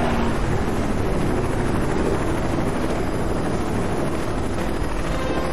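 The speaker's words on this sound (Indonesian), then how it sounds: "Helikopter." A helicopter in the survival video game LifeAfter gives off a constant, even whirring drone that stays loud and unchanging from start to finish, with no talking over it.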